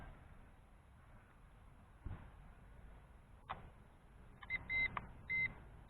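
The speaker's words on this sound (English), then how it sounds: "the radio controller starts beeping" Soft, short electronic beeps from a GPS drone's radio controller sound in a few quick bursts near the end, during return to home, following a couple of faint clicks against a quiet background.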